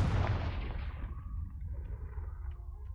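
A Confringo blasting spell explosion in the Hogwarts Legacy video game, one heavy booming blast that hits loud at once and then rumbles and decays over a few seconds.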